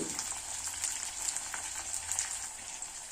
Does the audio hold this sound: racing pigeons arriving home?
no